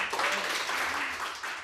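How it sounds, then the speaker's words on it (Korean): An audience claps briefly in a short, dense burst of applause, fairly close and steady, with faint voices underneath. "박수 한번 줄까요?"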